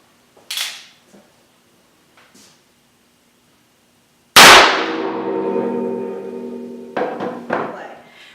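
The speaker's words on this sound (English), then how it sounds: "I'm going to move on to my Ruger Blackout 357. I'll be shooting a 38 special." A single sharp report from a .38 Special cowboy load fired in a Ruger Blackout .357 revolver, close and loud, ringing off with a long metallic decay and a couple of small clanks near the end; faint handling noises come before the shot.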